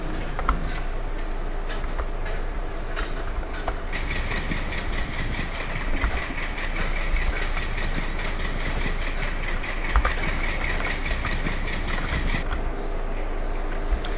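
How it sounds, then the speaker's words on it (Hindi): A Bhuj–Dadar Superfast Express rolls past in the MSTS Open Rails train simulator, with a steady rumble of wheels, rhythmic clickety-clack over rail joints and an engine drone, heard throughout without talk. "और गाइस ये था आपका भूज दद्दर सुपर फास्ट एक्सप्रेस।"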